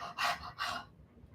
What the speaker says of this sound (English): I can hear you breathing over there.